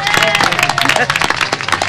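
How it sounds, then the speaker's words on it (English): Applause rises for the head of the Library Commission at a city groundbreaking event in the Bayview, a short burst of many hands clapping fairly close, with voices mixed in. "let's give a big round of applause for her work"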